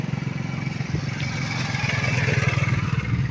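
A motorcycle engine chugs steadily nearby in a rural village in Northern Samar, with a low, rapid pulsing throb that holds at an even level throughout.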